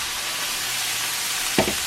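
Beef stew meat sears in a cast iron Dutch oven with a constant, close sizzle, and a single sharp knock or scrape near the end rises briefly over the frying hiss.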